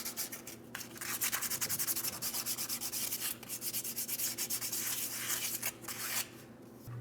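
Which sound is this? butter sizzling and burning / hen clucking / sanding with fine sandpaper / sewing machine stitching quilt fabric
sanding with fine sandpaper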